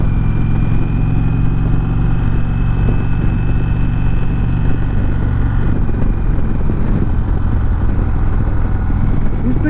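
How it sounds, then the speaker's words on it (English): A 2019 Indian Chieftain Dark Horse motorcycle engine rumbles steadily and loudly throughout, a deep continuous drone with some road noise, close by the whole time. "Nothing like the sound of a motorcycle in the afternoon."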